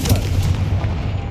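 A Confringo fire spell blast in Hogwarts Legacy, a heavy booming impact with rumbling low-end, loud and sustained through the whole moment, with no talk over it.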